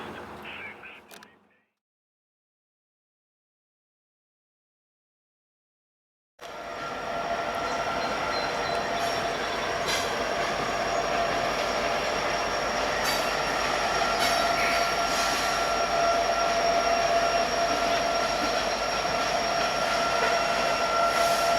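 A loaded Norfolk Southern coal train rumbles past after a stretch of silence, a long continuous roar of rolling cars with occasional wheel squeal, and people talking faintly beneath it.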